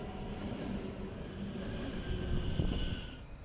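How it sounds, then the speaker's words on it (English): A Bombardier Talent regional train on a German Metropol Express service passes at a distance, a low rumbling roll with faint wheel noise that swells slightly toward the end. "this Metropol Express service operated with Bombardier Talent trains"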